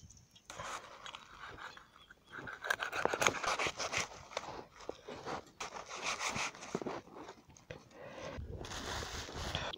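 Catfish being cleaned by hand outdoors, with irregular scraping, rubbing and rasping strokes, some brief clicks and knocks, faint and close, with no talk over it.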